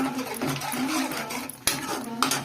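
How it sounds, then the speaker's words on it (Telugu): Chili masala curry stirred in a pan over low heat, close wet scraping and slurping strokes of a spoon through thick gravy, with a couple of sharp clinks against the pan near the end. "దీన్ని బాగా కలుపుకోవాలి అడుగంటకుండా సిమ్లోనే పెట్టుకున్నాను"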